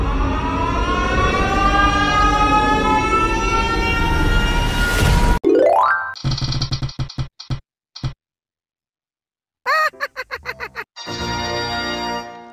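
A loud, drawn-out Siren Head monster siren wail in a video game rises and falls for several seconds, then breaks into abrupt electronic bursts and stuttering tones with brief silences.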